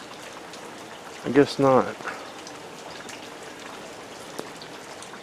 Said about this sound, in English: It's just a light rain right now.